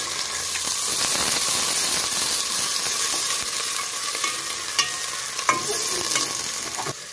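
Onion and garlic fry in a hot pan, giving a steady close sizzle with occasional scraping stirs and a few sharp clinks.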